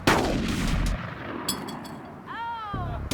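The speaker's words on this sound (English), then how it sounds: "her peace is shattered by wild gunfire" A loud gunshot bursts at the start and rolls away, followed by quieter sharp cracks and a brief rising whine.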